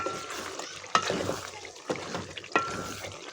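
Beef frying in a pan on the stove, with a steady low sizzle and three sharp scraping stirs of the spoon spaced about a second apart.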